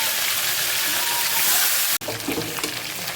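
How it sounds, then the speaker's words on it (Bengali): Meat pieces fry in hot oil in a pan, a steady loud hiss and sizzle that breaks off for an instant, then resumes with crackling spatter, no voice over it. "এইরকম করে লাল লাল করে ভেজে নিব"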